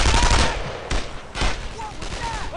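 Rapid bursts of gunfire in the Brothers in Arms World War II shooter game, loud and close with sharp repeated shots and brief gaps, mixed with shouted voices.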